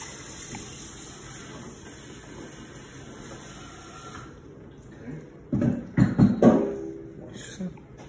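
Cherry tomatoes are rinsed under a running tap: a steady hiss of flowing water, then bursts of louder splashing and gushing close by as the tomatoes are handled under the stream.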